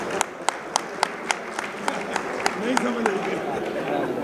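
Audience applause at a Lahore Chamber of Commerce election gathering, heard as a steady wash of hands with sharp periodic claps standing out in a regular rhythm, while voices carry on over it.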